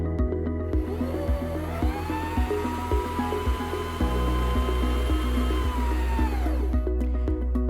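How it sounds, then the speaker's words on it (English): A Singer M2400 sewing machine winds a bobbin under foot control, giving a steady, loud motor whir with a rising pitch and a rhythmic mechanical ticking that continues until it spins down near the end. "as you hold the thread in your hand above the bobbin, step on the foot control to start winding"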